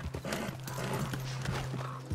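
Horse hooves clip-clop at a steady walking pace in the Red Dead Redemption 2 game, close and clear over a low ambient background hum.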